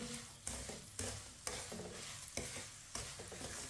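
Suji halwa with chopped pistachios and cardamom stirred in a pan, a steady scraping and soft sizzle with regular strokes roughly every half second, close and moderately loud, no voices.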